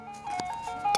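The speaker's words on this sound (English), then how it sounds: "Oh, ice cream truck." Ice cream truck outside, its chiming tune drifting in briefly at moderate distance over a quiet room.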